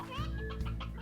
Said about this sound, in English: you just picked up a bunch of briar hens